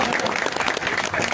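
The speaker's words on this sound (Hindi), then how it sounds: "तालियां बनती है" Brief burst of crowd clapping at a tape-ball cricket league prize distribution ceremony, dense and steady, moderately loud.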